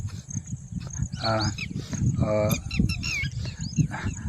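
Bird calls chirp in short bursts over steady background noise, with a couple of louder twittering flurries standing out.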